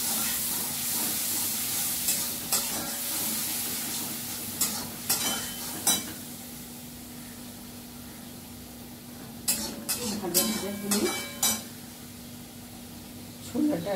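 Spices, onion and garlic fry in a pan in a home kitchen, a low steady sizzle broken by clusters of sharp scraping stirs, with a faint hum and brief voice sounds.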